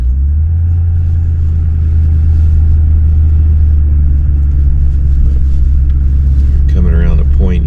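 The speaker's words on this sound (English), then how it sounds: "the wind is terrible and it's cold in the wind" A strong, cold wind blows across a northeast Florida beach where people are surf fishing. It makes a loud, steady low roar that buffets the microphone for the whole stretch.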